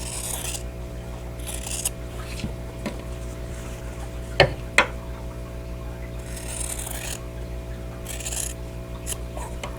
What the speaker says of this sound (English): I'm going to trim the outer corner here, leaving a 1/4 inch seam allowance